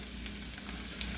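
Vegetables sizzle faintly but steadily in a hot skillet, a soft continuous frying hiss with light crackles.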